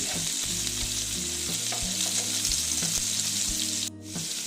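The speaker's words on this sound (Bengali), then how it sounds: "লাল লাল করে ভেজে নিচ্ছি" Katla fish pieces fry in hot oil in a home kitchen, a constant close sizzle with occasional scraping and clinking of a stirring utensil.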